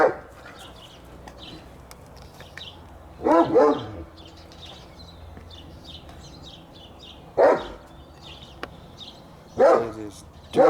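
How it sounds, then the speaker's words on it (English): A neighbor's dog barks repeatedly in the distance outside, single woofs every few seconds over steady background noise, with faint talk mixed in. "Neighbor's dog."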